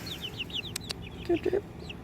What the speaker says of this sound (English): They're some pretty little chickens.